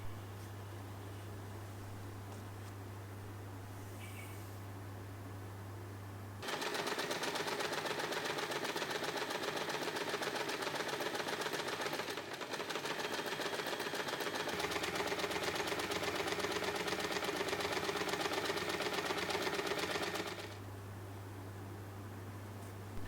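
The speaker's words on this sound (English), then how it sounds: "Now we'll top stitch these parts to secure each pocket layer" Sewing machine top stitching a pouch pocket lining: a steady, close mechanical whir runs unbroken for about fourteen seconds, with a brief hitch midway, set between quieter stretches of low hum before and after.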